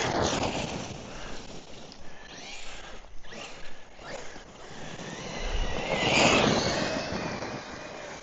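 Hobao Hyper MTX RC car driving outdoors and kicking up dust, its motor a steady broadband rush with a surge near the end, no voices over it.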